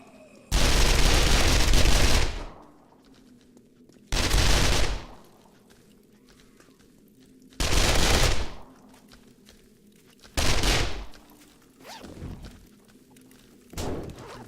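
Bursts of automatic gunfire in the game 7 Days to Die, played with the BorderlandZ mod in Alpha 17.2: five loud volleys of varying length separated by short quiet gaps, with the last ones shorter and fainter.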